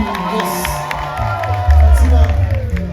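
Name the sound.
audience applause and cheering at a concert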